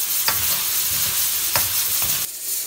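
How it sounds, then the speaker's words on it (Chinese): Chicken and chili being stir-fried in a wok in a rural kitchen: a loud continuous sizzle with repeated scraping strokes of the spatula, the hiss dropping slightly near the end. "再炒，辣椒别炒糊了啊"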